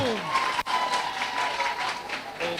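Loud, sustained audience applause fills the hall as results are announced at a choir competition music festival, a brief sharp knock cutting through early on amid the steady clapping and crowd noise.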